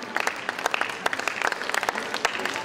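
Applause at a rugby league tribute ceremony, a crowd clapping steadily with dense, crackling claps throughout, fairly close and without talk over it.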